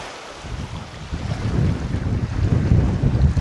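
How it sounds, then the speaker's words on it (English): Wind gusts across a secluded beach, buffeting the microphone with a heavy low rumble that swells and surges in rising waves of gusts, loud and close, with no talking. "Now it is a little bit windy today."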